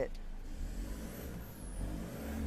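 A Ford pickup truck engine idles and revs with a low, steady exhaust rumble that swells slightly, with muffled talk in the background.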